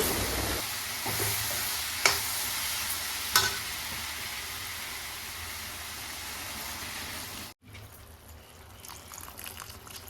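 Brinjal and chickpea curry stirred in a pan, a steady sizzling, scraping texture with a couple of sharp clinks from the spoon, then a brief drop and a softer bubbling simmer afterward.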